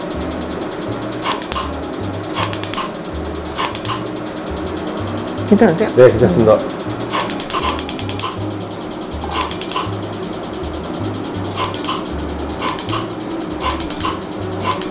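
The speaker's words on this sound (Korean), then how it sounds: "이렇게 타다다다닥 착착착착 소리가 나면 이제 잘 된 거예요" A Mirajet needle-free jet injector fires during a skin treatment, giving bursts of rapid mechanical clicking and ratcheting pulses in irregular clusters, with brief quiet conversation partway through.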